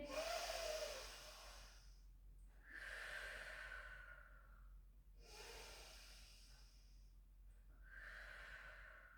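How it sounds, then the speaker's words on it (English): Slow, deep breathing during a rehab Pilates exercise, with a few drawn-out inhales and exhales in soft, close puffs separated by quiet pauses. "Take a beautiful breath in."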